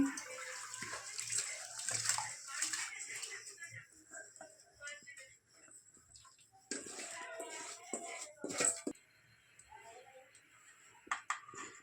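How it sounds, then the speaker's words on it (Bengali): Kamini atap rice being washed by hand in water, with repeated sloshing, splashing and swishing that come in uneven bursts, close and moderately loud. "দেখো চালটা ধুয়ে নিচ্ছি ভালো করে"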